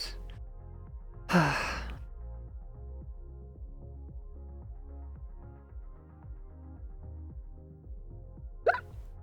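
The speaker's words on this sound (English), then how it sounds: "Oh, hiccup." A single sharp hiccup-like vocal burst stands out near the start over a looping background tune, and a second, briefer one comes near the end, both close and fairly loud.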